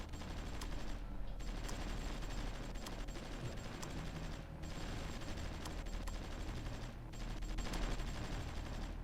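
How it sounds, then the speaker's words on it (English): Continuous distant battle din of rapid shots and rumbling artillery fire in the war strategy game Supreme Ruler Ultimate, a steady dense roar with brief dips in between. "That's artillery."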